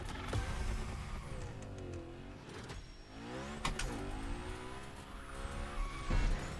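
Car drifting in The Crew Motorfest racing game, with a loud engine howling and shifting pitch as tires squeal through repeated slides, fairly continuous with surges near the end.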